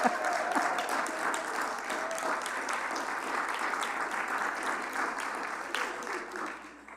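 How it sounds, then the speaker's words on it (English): Sustained audience applause at a Sunday church service, a dense steady patter of many hands that holds strong throughout and tapers slightly at the end. "let's give our speakers another round of applause"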